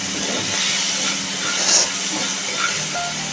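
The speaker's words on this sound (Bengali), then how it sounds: "এবার এটাকে আমি একটু নাড়তে থাকবো।" Fish curry with mustard and poppy seed paste being stirred in a hot pan, a steady hissing sizzle with soft scraping of the spoon, close and continuous without talk.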